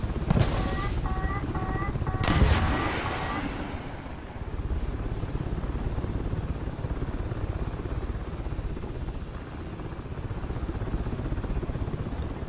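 An MH-60L DAP helicopter's rotor chops steadily throughout in War Thunder, with a few brief electronic beeps and a sharp missile burst near the start.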